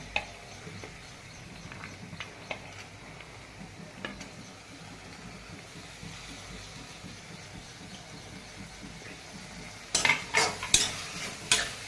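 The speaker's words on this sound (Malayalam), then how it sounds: "നന്നായിട്ട് വഴറ്റി കൊടുക്കാം." Garlic and leafy greens sautéed in a pan, a quiet steady sizzle with soft stirring scrapes throughout, ending in a few louder clattering knocks of a utensil against the pan.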